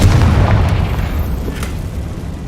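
A Confringo explosive spell cast in Hogwarts Legacy bursts with a loud, deep boom whose rumble rolls on and slowly fades over a couple of seconds.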